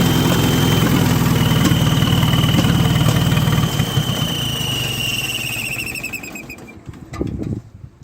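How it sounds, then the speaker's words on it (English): A squeaking belt chirps steadily on an idling Oliver 550 gas tractor engine with a carburetor fault, a loud continuous squeal riding over the low engine rumble before it trails off and sputters near the end. "That's the belt making all that squeaking."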